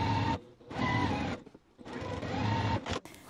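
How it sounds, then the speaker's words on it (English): A sewing machine stitching rows of a quilt block together, running in three whirring bursts with short stops between, close and fairly loud with no talk. "And so we are going to sew this together."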